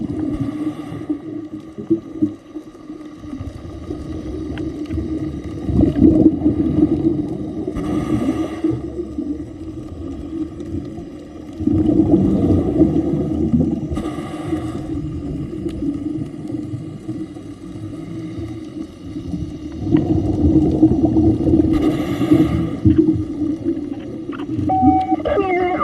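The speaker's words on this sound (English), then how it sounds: "The deeper we get, the louder the whales will be." Whales vocalize underwater during a scuba dive, moaning calls that rise in several loud swells over a constant low rumble of water and breathing.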